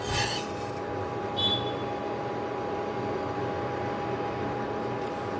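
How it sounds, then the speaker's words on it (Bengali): A pastry brush rubs a little oil across a frying pan for the next dosa, a soft, steady rasping scrape that sits low under a constant background hiss with no talking. "আবারও আমি ফ্রাই প্যানটার মধ্যে একটু সামান্য তেল ব্রাশ করে নেব"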